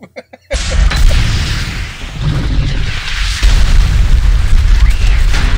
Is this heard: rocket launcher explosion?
yes